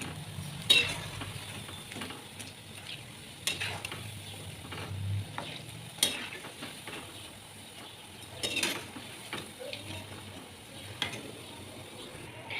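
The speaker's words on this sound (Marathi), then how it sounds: "वडे तळताना एक दक्षता घ्यायची की गॅस नेहमी मिडियम आचेवर ठेवायचा" Medu vada sizzle steadily in hot oil over medium heat, a soft continuous crackle broken by occasional sharp clinks of a utensil against the pan.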